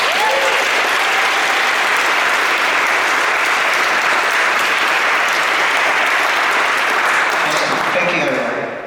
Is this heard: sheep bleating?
no